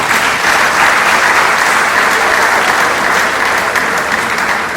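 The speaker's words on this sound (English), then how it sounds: "Clap for her properly." Steady, dense applause from an audience at a university inaugural law lecture, loud and sustained throughout with no voices over it.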